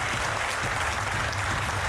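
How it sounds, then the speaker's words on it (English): Steady, dense applause from a large audience at the African bank group's annual meetings in Nairobi, loud and continuous with no talk over it. "I think we deserve a clap for Africa."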